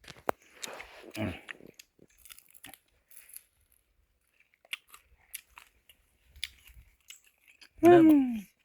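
People eat a meal of grilled bird wings, larb and soup, with soft, scattered crunches and chewing bites close by in a quiet setting, ending with a brief spoken voice.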